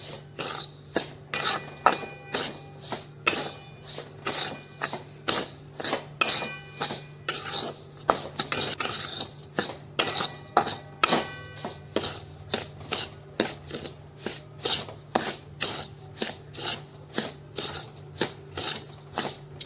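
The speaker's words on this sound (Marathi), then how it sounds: "तूप घालून पुन्हा थोडा वेळ असं भाजायचं आहे एक दोन मिनिट" Semolina roasting with ghee in a pan as shiro (sheera) is made, giving a steady run of sharp scraping and tapping strokes from a spoon against the pan, close and fairly loud, with no talk.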